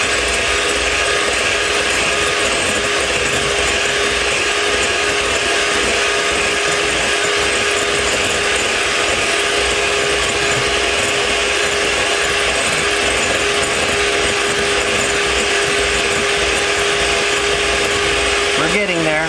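An electric mixer whips egg whites toward stiff peaks, a loud, continuous, close whirring drone with a steady motor tone that holds unbroken throughout.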